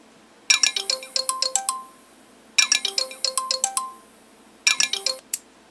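The Garmin Nuvi 295W GPS plays its "Aloha Sunset" email alert, a bright descending chime melody of plinking notes, heard three times in a row with short gaps between, clear and alone.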